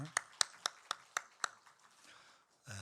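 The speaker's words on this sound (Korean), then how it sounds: "다시 한번 우리 축복의 박수 하시겠습니다" A church congregation at a Sunday worship service claps about six sharp, evenly spaced beats, then softer scattered claps trail off before a voice begins at the end.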